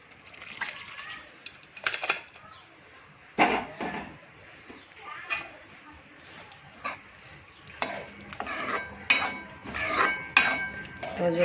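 Cluster beans (guar) are tipped into roasted masala in a cooking pan, giving irregular metallic clatters, scrapes and wet sloshing bursts that come and go at close range.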